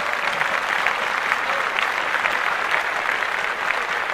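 A steady wash of applause plays during a podcast, a continuous, even crackle of many clapping hands at moderate level with no distinct voices over it.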